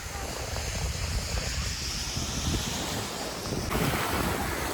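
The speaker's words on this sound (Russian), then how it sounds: "стою возле моря, это Азовское море, Щелкино" Surf on the Azov Sea breaking on the beach at Shchyolkino, Crimea: a steady, loud wash of waves with strong wind buffeting the microphone throughout, no voices.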